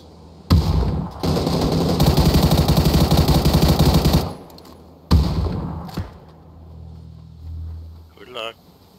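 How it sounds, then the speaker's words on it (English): Rapid automatic gunfire in a battle-royale shooter, long sustained bursts followed by a sharp single blast and scattered thuds, loud and close, with a bit of game sound near the end. "Someone's shooting from the west."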